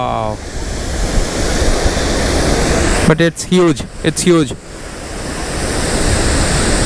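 Chitrakote Waterfall in Chhattisgarh roars as a steady, loud broadband rush of falling water that fills the whole clip, with a man briefly exclaiming over it in the middle.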